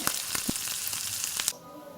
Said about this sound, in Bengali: এগুলো দেখো বেসনে ডুবিয়ে পর ফুলকপিগুলো ভাজছি